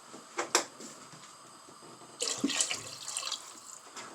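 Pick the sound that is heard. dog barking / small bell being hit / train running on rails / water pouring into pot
water pouring into pot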